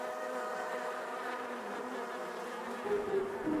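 Game bees in Miss Clue Christmas At Donner's Pass hum in a constant buzzing drone that holds steady and swells slightly near the end.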